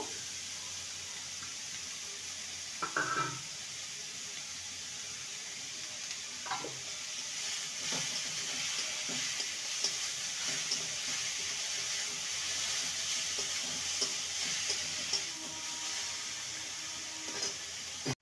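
Grated beetroot and carrot sizzle steadily in a hot frying pan for vegetable chops, with occasional scraping and clattering of a spatula stirring the mixture over the constant frying hiss.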